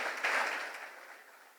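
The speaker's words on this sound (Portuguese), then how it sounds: "uma salva de palmas para o Ivan" Audience applause at a church sermon, honoring a man named Ivan, a brief swell of clapping that peaks early and then fades steadily over under two seconds.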